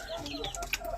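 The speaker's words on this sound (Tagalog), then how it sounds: "Yung inahin tapos yung dalawang sisiw." A Koshamo hen with two chicks, with soft, close clucking and faint peeping in a brief, busy burst on a farm.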